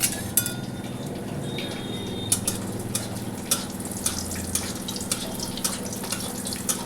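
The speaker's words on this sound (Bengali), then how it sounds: "কড়ার তেল আমার গরম হয়ে গেছে। প্রথমে আমি বন্ধুরা বড়িটা ভেজে নেব" Bori, small sun-dried lentil dumplings, frying in hot oil in a wok, a continuous close sizzle broken by regular sharp clinks and scrapes, with no talking.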